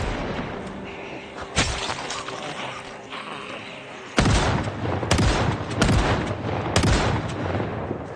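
A .44 handgun fires in the Project Zomboid video game, a few sharp loud bangs spaced apart, with a busy background of game noise between the shots.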